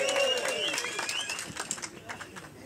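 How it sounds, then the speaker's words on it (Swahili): A crowd at an outdoor ceremony issuing provisional driving licences to motorbike riders claps loudly, then the applause thins into scattered claps and fades away. "Pigia makofi"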